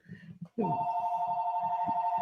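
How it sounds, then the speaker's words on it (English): A telephone bell rings in a steady, sustained electronic trill that starts abruptly and continues loud and close, with a brief voice just before it begins. "It's always ringing. So it's a sales call."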